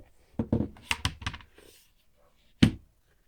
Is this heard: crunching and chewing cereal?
no